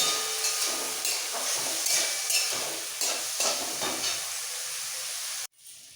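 Carrots, beans and peas with a little salt sizzle in a pan while being stirred, rhythmic scraping strokes over steady hiss that cuts off abruptly near the end.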